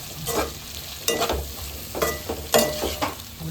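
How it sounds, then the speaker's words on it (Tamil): Potato curry simmers in a pan while a spoon stirs it, giving soft bubbling and sizzle with about four distinct scraping strokes spaced roughly half a second to a second apart, close and fairly quiet. "உருளைக்கிழங்கு வந்து ஆல்மோஸ்ட் முடிஞ்சிருச்சு இன்னும் லைட்டா ஒரு அஞ்சு நிமிஷம் கொதிக்க வச்சுட்டா"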